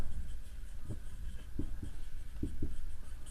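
Pen or chalk writing out a ninth-grade geometry math solution, a soft scratchy scribble with several short distinct strokes over steady background hiss, close and fairly quiet.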